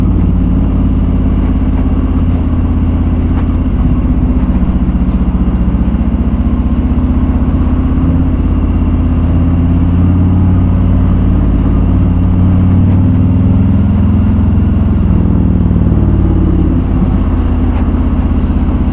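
A big 2017 Harley-Davidson Street Glide 107ci engine with slip-on exhaust rumbles deep and loud, its throaty exhaust swelling as it accelerates, a steady low roar running throughout.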